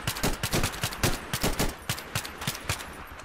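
Rapid bursts of gunfire from a Minecraft apocalypse server game sound off in a quick irregular series of sharp cracks, moderately loud with no talking over them.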